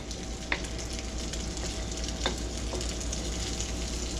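Beef for a pepper steak stir fry fries in hot oil, sizzling steadily at close range with a few sharp pops and crackles and no voices.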